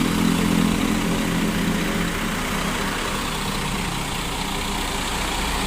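A Kurnia bus with a Scania engine idles at an auto workshop during an AC service, giving a steady, loud, low diesel rumble that goes on unbroken with no talk over it.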